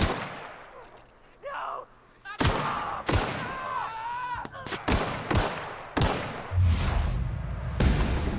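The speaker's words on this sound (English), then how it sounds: "Should we shoot the marauder in the head? I missed." Gunfire in The Outer Worlds video game aimed at a marauder, heard as several loud, sharp shots spaced across the clip, with game sounds and a voice woven between them.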